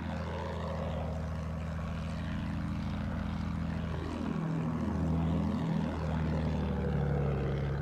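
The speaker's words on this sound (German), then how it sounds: "Vorsicht, Flugzeug!" A propeller attack plane in the World War I shooter Battlefield 1 drones steadily, then sweeps overhead with a falling engine pitch and roars on loudly throughout, with no voices.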